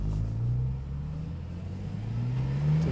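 A Porsche 911 Turbo 997.2 engine drones steadily as the car is driven, a close low rumble that swells slightly toward the end with no talking.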